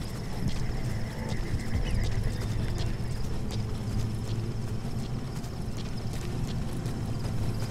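Steady clip-clop of horse hooves walking at an even pace in the video game Metal Gear Solid V: The Phantom Pain, close by, with a low background hum and no talking.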